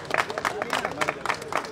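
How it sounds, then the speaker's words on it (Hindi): Scattered audience clapping at a music company launch event in Mumbai, a short patter of hand claps under crowd noise and background voices. "चलिए ताली बजा दीजिए, ताली बजाइए"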